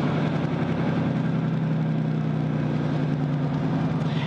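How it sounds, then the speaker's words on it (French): Heavy truck descending a grade with only its engine holding it back, no additional retarder fitted; a steady low, droning engine note runs continuously and close, with no talk over it. "Donc le moteur nous sert à avancer le camion et en même temps nous le retenir."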